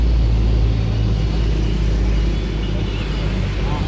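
A truck passes on a road beside a bakso cart stall on Jalan Onglen, a loud, steady low engine rumble filling the whole stretch and easing slightly toward the end.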